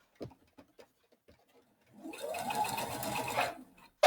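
Sewing machine running in one steady burst of fast stitching on a fabric scrubs bag, preceded by scattered small clicks and handling taps, close and alone with no talking.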